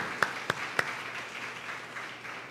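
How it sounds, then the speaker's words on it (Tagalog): A church congregation applauds during a sermon, a few sharp isolated claps up front, then a faint, distant, sustained patter of clapping. "Come on, pinakabalakas na palakpak sa Panginoon."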